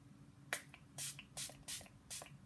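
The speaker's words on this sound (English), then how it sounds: "So I'm going to use the Revolution, I Heart Revolution Fixing Spray." Several short hissing sprays of makeup setting spray onto a face in quick succession, close and fairly quiet, with brief pauses between bursts.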